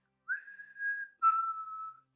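A human voice imitates the Saviors' whistle from The Walking Dead, whistling two clear sustained notes, the second slightly lower, alone and close in an otherwise quiet setting.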